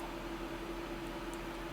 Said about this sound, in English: That noise you can hear is the cooling fan inside the microwave